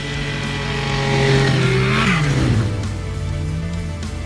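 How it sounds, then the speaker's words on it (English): A loud engine drones steadily as a four-stroke Yamaha snowmobile passes close by, its pitch bending downward as it goes, with steady background noise throughout. "Hear that 4-stroke Yamaha going by."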